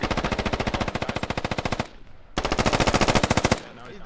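Sustained automatic gunfire from a Squad shooter battle, two long rapid bursts of machine-gun fire close and loud with a brief pause between, faint speech underneath.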